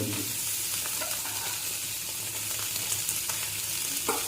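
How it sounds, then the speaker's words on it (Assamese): Pork dry-frying in a kadai in its own rendered fat, a constant close sizzle and crackle with occasional stirring scrapes, no speech. "গাহৰিৰে যিটো তেল উঠিব সেইটোৰে ভাজিম"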